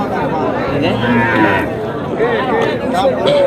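Cattle lowing at a busy livestock market, deep moos rising and falling across the clip over steady crowd murmur and chatter, with the animals sounding close and fairly loud.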